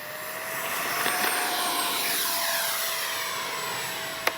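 A Freewing 70mm F-35 electric ducted-fan RC jet flies with a steady, high, airy whine that shifts pitch slightly as it passes at moderate distance, with a brief sharp click near the end.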